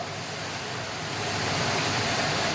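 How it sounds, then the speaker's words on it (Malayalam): Steady rain falls outdoors while mango curry cooks in a kitchen, a continuous broadband hiss that grows slightly louder toward the end, with no talking. "മഴയുടെ സൗണ്ടാണ് കേൾക്കുന്നത്"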